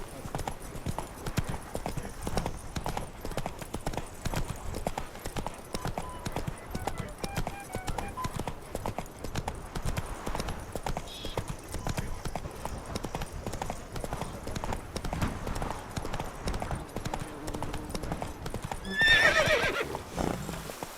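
Horse hooves clip-clopping at a steady running rhythm in the video game The Witcher 3: Blood and Wine, with a horse whinnying briefly near the end, continuous and fairly close over faint ambient game sound.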